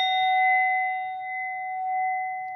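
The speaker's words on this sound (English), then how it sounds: "Let's also go ahead and ding this bell so we can get rid of anything icky." One bright metal bell is struck once near the start and its clear, steady ring hangs on and slowly fades, with faint low rumble beneath.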